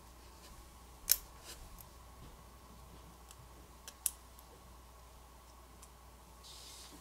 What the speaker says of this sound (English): Go ahead and disconnect those from the back of the main board.